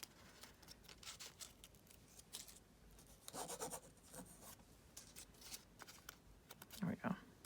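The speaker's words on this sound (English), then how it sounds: "I'm just rubbing it along the edge there." Paper is rubbed and scraped along its edge while distressing a junk journal page, giving soft, close, irregular rasping strokes in short bursts, with a brief crinkle near the end.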